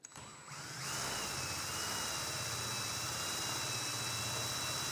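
A power drill drives a garage storage lift downward, a steady loud mechanical whir that starts after a brief quiet moment and holds continuously to the end, with no talking.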